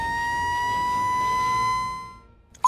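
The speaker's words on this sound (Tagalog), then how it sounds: "sound the alarm o patinguga ang alarm" A steady electronic fire alarm siren tone holds for about two seconds, then fades out, ending with a brief click.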